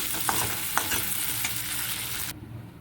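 Oil sizzles steadily as small shrimp fry in a pan, with a few soft utensil taps, then the sizzling drops away abruptly near the end.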